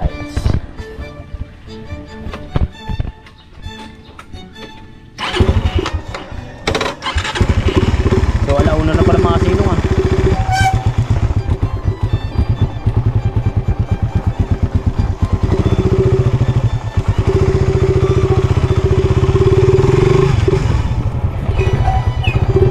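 A motorcycle is started after some handling noises and then settles into a steady, loud, close idle that runs on for a long stretch, with people talking over parts of it.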